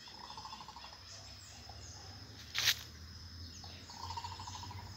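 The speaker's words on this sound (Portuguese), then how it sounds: "Esse passarinho faz um barulho esquisito." A single sharp, harsh call from an urubu d'água bursts out briefly amid a quiet outdoor background with faint chirping and low ambient hum.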